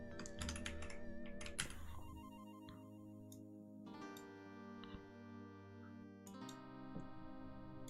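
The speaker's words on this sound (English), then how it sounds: "ugh, I suck at typing" Fast, uneven clacking of keys on a computer keyboard, near and fairly quiet, in short bursts with brief pauses and no talking.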